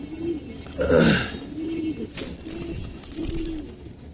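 A Giribaz pigeon coos nearby in a short series of soft, throaty rolling calls, with brief rustling between them.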